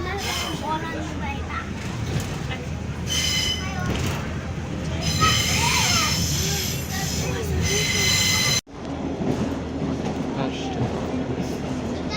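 A heritage train on the Weardale Railway rumbles steadily along the rails near Frosterley with rhythmic clatter and occasional high wheel squeals, loud and close, with voices talking faintly underneath.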